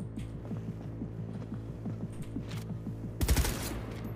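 A light machine gun fires in Cyberpunk, a short, loud burst of rapid shots cutting in near the end over a steady rhythmic mechanical pattern and low hum.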